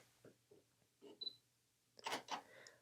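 A Fuji X-T1 mirrorless camera fires its shutter while photographing a toy guitar, giving a short pair of crisp mechanical clicks close up after faint handling ticks, with no talking.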